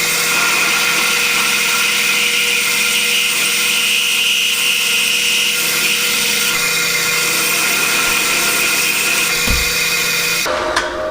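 A bandsaw cutting a steel pan hard bar to length runs with a loud, constant whine and rasp, holding steady before cutting off near the end.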